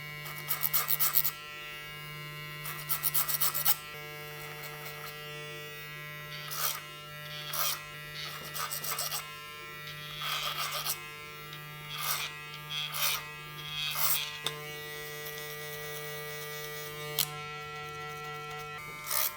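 Electric hair clippers buzz in repeated short bursts while tapering the back and sides of a short back and sides haircut that is left long on top, heard close and alone, without talk.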